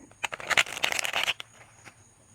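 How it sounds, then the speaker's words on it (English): A short burst of tarot cards being shuffled close by, a fluttery riffle lasting about a second, then quiet. "one more shuffle"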